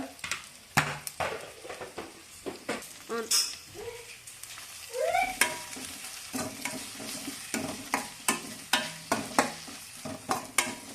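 Ginger and mint stir-fried for mint rice in a steel pan, with repeated sharp scrapes and clinks of a spatula over a soft, steady sizzle, close and fairly quiet.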